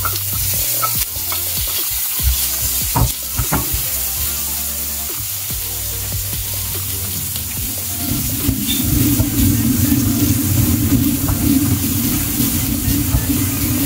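Onions frying with a bay leaf in a pan, cooking for a dhaba-style gobi matar masala, give a steady close sizzle with stirring scrapes and clinks; the frying grows louder and fuller toward the end.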